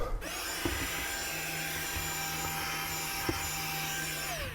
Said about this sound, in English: can even vacuum it out